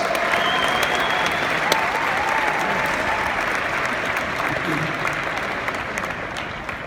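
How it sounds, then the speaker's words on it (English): A conference audience at a Rotterdam 2019 closing session applauds steadily, a dense, even wash of clapping that holds for several seconds and slowly tapers. "So give yourselves a round of applause"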